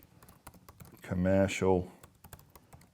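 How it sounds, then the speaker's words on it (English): Quick clicks of typing on a computer keyboard, scattered sharp keystrokes close to the mic, broken up in the middle by a spoken word. "If I can get my typing to work"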